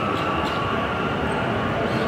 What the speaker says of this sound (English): So this is the metro.